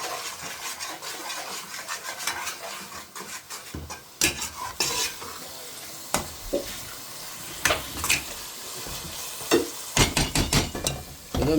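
Masala gravy for tandoori chicken roasting in a pan, with a soft frying sizzle under repeated scraping and clinking of a spoon stirring against the pan, some strokes sharp and close.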